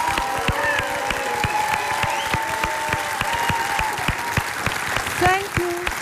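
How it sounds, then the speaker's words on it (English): Enthusiastic theater audience applause at a concert in Amsterdam's DeLaMar Theater, dense clapping with cheering and whistles, a voice speaking and sharp individual claps standing out near the microphone. "I'm going to ask this crowd to give you the biggest hand in the world"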